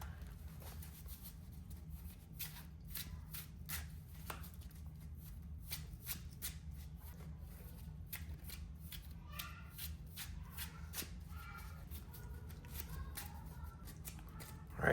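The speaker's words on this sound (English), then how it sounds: "All right, the deck is shuffled." A Yu-Gi-Oh Mathmech trading card deck being shuffled by hand: a steady, close run of riffling and sliding card flicks lasting the whole stretch, with no talking.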